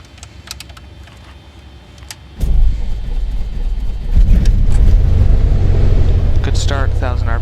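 A light aircraft engine in a flight simulator home cockpit cranks and catches into a loud steady rumbling idle that builds as it settles, with a pilot talking briefly over it.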